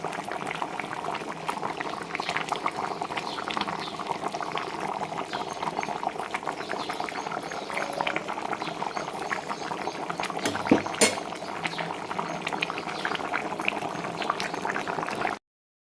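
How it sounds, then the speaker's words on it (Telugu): Fish curry made with golden-thread fish bubbles steadily in a pot, a close, continuous simmer of popping and churning liquid that runs unbroken for about fifteen seconds, with one brief louder burst near the end. "ఉడుకుతున్న శబ్దమే సూపర్గా ఉంది, చూసారుగా."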